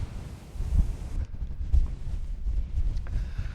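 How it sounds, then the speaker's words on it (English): Strong wind on a Lake District fell walk over Bowfell and Crinkle Crags buffets the microphone in low, gusty rumbles that rise and fall throughout. "Well, it's still windy"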